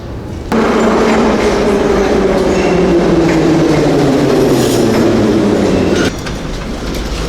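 A metro train rumbles steadily close by in a Kharkiv station, a low droning hum with a gradually falling pitch, cutting off abruptly near the end into quieter station noise.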